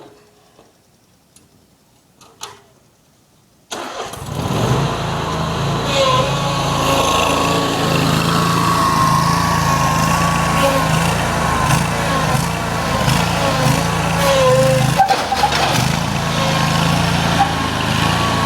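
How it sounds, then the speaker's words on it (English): A lawn mower engine runs loud and steady on grass while the rider pulls a wheelie, starting abruptly after a few seconds of near silence and holding a constant drone with slight surges. "me doing a Willie on a lawnmower"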